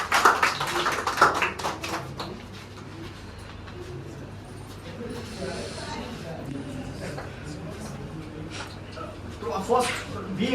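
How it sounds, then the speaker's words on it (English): At a public speaking training session, a room of people claps in a quick burst at the start and again near the end, with quieter room noise and murmuring in between. "Clapping."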